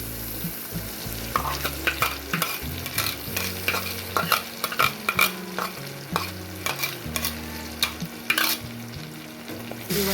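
Ground spices (turmeric, salt, coriander and cumin powder, chilli powder) fry in oil in a pan for a Bombay duck bhuna, with a continuous soft sizzle under repeated scraping and clinking spatula strokes and no talking.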